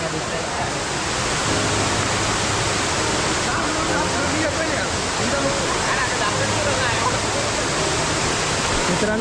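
A hidden waterfall near Thane in Yeoor roars as a steady, broad wash of close falling water, with people talking faintly under the noise.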